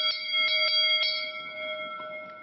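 A Kyoto tofu seller's delivery bell, in use for generations, struck several times in succession. Each strike is bright and metallic with long sustained tones that ring on between hits.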